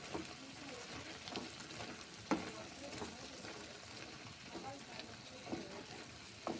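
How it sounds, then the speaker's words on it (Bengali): Water and green peas go into a hot wok for a mung dal and eggplant dish, giving a low steady sizzle with a few sharp stirring clinks and scrapes throughout. "জল দিলাম, এখন মটরশুঁটিগুলো ছেড়ে দিলাম কড়াইয়ে।"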